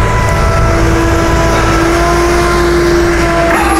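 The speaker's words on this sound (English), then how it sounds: "what I'm doing is sliding the bed forward and tilting it down" A tow truck's hydraulic bed slides forward and tilts down, a loud steady mechanical whine with a faint rising tone running under the engine's rumble throughout the few seconds.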